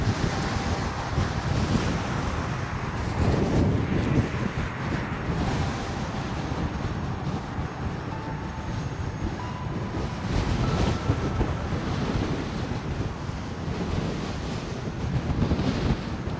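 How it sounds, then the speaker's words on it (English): Strong wind buffets the microphone while riding a KingSong 18L electric unicycle at speed, a loud, continuous rushing roar that swells and eases in gusts with no talking. "Now for the short but very windy remainder of the ride."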